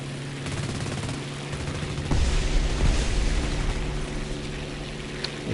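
Sustained machine-gun fire in War Thunder clatters under a low droning engine, joined midway by heavier booming impacts that thicken the barrage.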